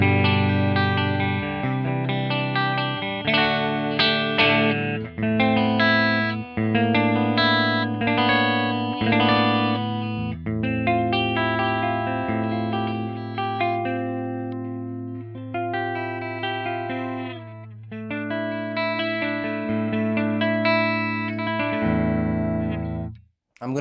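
Electric guitar through a Mesa Triple Rectifier amp on its clean channel, playing a steady run of arpeggiated chords over a held low note, bright and continuous, near and moderately loud with no voices.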